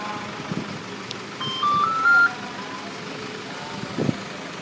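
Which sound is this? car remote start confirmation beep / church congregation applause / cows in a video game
car remote start confirmation beep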